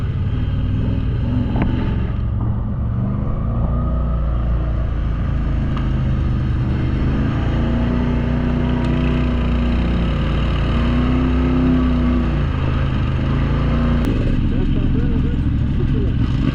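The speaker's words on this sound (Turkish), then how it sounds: "Sanıyorum 30'a yakın ATV var." A group of about 30 ATVs on an off-road tour of a rough Çatalca track: a steady, close engine drone and rumble that runs the whole time, with voices talking over it.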